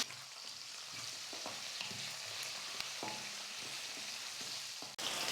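Small shallots and curry leaves sautéing in a pan for sambar, a steady close sizzle with occasional stirring scrapes and clicks and no voices.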